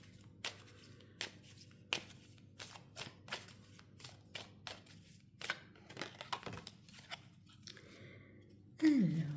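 Oracle cards are shuffled by hand, close up, giving a series of soft, irregular slaps and riffles spaced every second or so, ending in a brief louder rustle.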